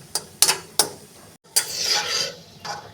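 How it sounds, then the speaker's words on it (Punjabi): Dry fruits roasting in a pan on medium flame for moong dal halwa, heard as close, crisp scraping and stirring strokes, a few sharp scrapes and then a longer rustling sweep with a soft sizzle underneath, no talking. "ਮੀਡੀਅਮ ਫਲੇਮ ਤੇ ਇਹਨਾਂ ਨੂੰ ਭੁੰਨ ਲਵਾਂਗੇ"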